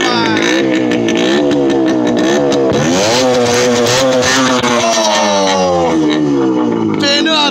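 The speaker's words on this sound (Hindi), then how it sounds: "Start super bike." A superbike engine revs hard in loud, rising and falling sweeps, pulling up through the revs again and again over a steady mechanical roar, close by and with no talk over it.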